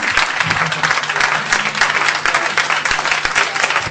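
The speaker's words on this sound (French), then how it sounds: "Applaudissez d'abord, allez-y." Audience applause at a quiz game event, the Génie en Herbe contest organized by Bénin Télécoms, fills the hall with steady, dense clapping from start to finish and no talking over it.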